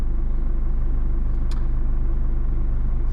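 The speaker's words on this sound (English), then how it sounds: "Four-wheel drive engaged." A car in four-wheel drive rumbles through a ditch on a rough outback track, giving a loud, steady low engine drone with one brief sharp knock partway through.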